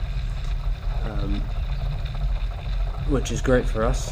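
A strong wind gust hitting an RS400 sailing dinghy during club racing, heard as a steady, broad rush of wind and water noise throughout, with someone talking over it.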